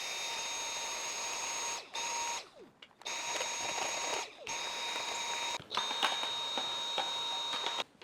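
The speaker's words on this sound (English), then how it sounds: "I just hit them with a little vacuuming." A Shark Matrix Duo vacuum running close by to clean its washable filters, with a steady whine that repeatedly cuts out briefly and comes back as the nozzle moves on and off.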